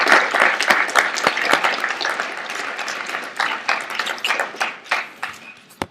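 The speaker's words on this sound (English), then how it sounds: "I think he deserves a round of applause" Audience applause after a keynote address at a conference, a crowd clapping steadily with sharp individual claps up close, gradually thinning and tapering off toward the end.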